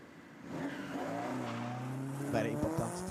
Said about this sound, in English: nice Ford Fiesta piloted by Predrag Bilic